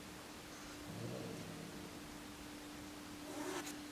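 Heavy rain pours down on a vegetable garden in a steady, hissing wash, with a low rumble that swells and fades.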